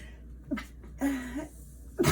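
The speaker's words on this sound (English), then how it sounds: "Sorry, I had to sneeze." A single nearby sneeze indoors, a short sharp burst with a quick breathy lead-in, standing alone in an otherwise quiet room with brief vocal catches before it.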